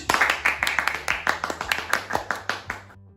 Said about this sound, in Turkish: Takipçiye bir alkış.